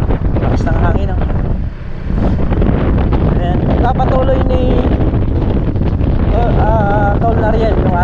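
Strong wind buffets the microphone in constant loud gusts while someone speaks over it and faint tones drift in the background.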